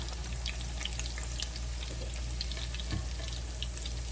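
Meatballs sizzle steadily as they fry in a pan, with a faint scrape near the three-second mark as they are pushed around; the crackle runs continuously and fairly softly throughout.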